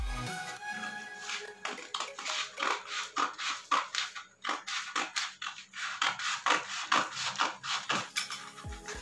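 Scissors cut through blouse fabric in a steady series of close rhythmic snips and crunching slices, each stroke followed by a soft rustle of cloth, with no talking.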